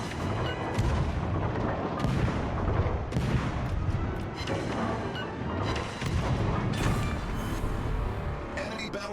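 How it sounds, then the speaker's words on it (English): Naval guns firing shells in the World of Warships video game, a dense roar of booming artillery blasts and rumbling explosions layered continuously over one another throughout. "I start shelling everyone in the range, trying to start fires on them"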